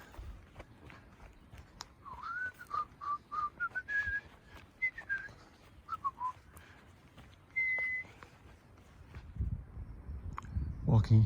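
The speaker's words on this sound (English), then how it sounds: "I'll just be whistling past the cemetery" A person whistles a short wandering tune, slightly distant, while walking past a cemetery on the Appalachian Trail, with footsteps and rustling around it and a louder thump near the end.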